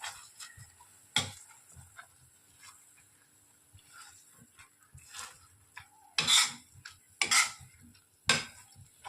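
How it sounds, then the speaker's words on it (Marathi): Peas for pav bhaji are mashed in a pan, giving sporadic scraping and knocking strokes of a utensil against metal, several louder scrapes standing out against a quiet background. "आता हे वाटाणे टाकल्यानंतर थोडंसं मी असं स्मॅश करून घेते त्याला"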